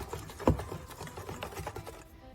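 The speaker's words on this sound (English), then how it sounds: "Whisk it really well, getting all those lumps out." A whisk beats vegan pancake batter of flour, baking soda and water in a bowl, making quick, rapid clicking strokes against the bowl that are fairly quiet and close, with no talking.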